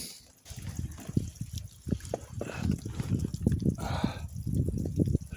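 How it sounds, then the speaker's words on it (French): Heavy rain mixed with hail pours down outdoors on a mountain hike in the Lombard Prealps, a dense, continuous rushing patter with scattered sharper impacts, steady and close throughout. "Bon, ben ça douche trop, ça grêle."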